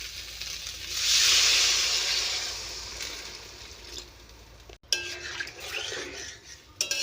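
Water is poured into a pot of fried soybean chunks, setting off a loud burst of hissing steam and sizzle that fades into quieter bubbling, with a sharp clink of a utensil against the pot near the end.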